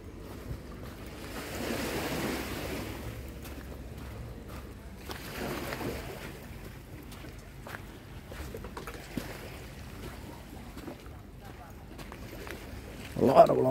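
Sea waves wash gently toward the shore at sunset on Koh Phi Phi, Thailand, a steady soft surf with wind buffeting the microphone and a louder burst near the end; voices talk quietly in the background.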